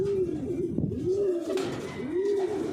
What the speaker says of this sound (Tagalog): Ito na yung aking isang ibon na si Ase.